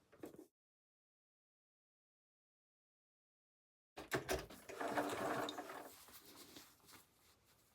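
A sewing machine runs a triple straight stitch through thick denim jeans at a waistband, a close mechanical whirring burst of about four seconds after a long silence and a short thump at the start.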